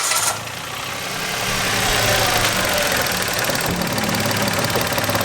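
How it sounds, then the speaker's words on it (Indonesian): A Mitsubishi car engine turns over and settles into a steady idle during oil flushing, a close, continuous rumble that swells slightly after starting. "Setelah itu kita hidupkan mesin ya."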